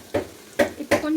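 Sliced onions and mint leaves sautéing in a pan for Tamil-style chicken dum biryani, heard as three short close bursts of stirring and sizzling.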